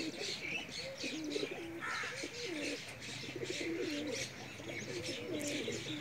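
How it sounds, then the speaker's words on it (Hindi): A homing pigeon with netted plumage coos in repeated soft, rolling phrases, close by, against a light background of other chirping birds. "माशाल्लाह बहुत अच्छा प्रवासी कबूतर है"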